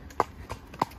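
Horses' hooves clip-clopping on a ground hack: three distinct hoof strikes at an easy walking pace, fairly close, over light outdoor background noise.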